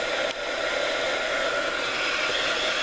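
Heat tool warming glue on a mixed media art tag, a steady loud whoosh of blowing air running continuously and close up, with no talking.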